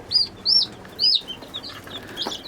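Chicks in a chicken coop give three loud, high peeps close by, spaced about half a second apart, followed by softer, scattered chirps.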